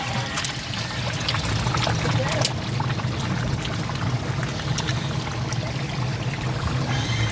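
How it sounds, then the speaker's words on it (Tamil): Water pours into a large pot of Dindigul-style mutton biryani being cooked in bulk for a wedding feast, a steady, close, continuous rushing splash with no talking. "நம்ம 54 லிட்டரு தண்ணி ஆட் பண்ணிக்கலாம். அதான் 30 பிடி தண்ணி ஊற்றியாச்சு."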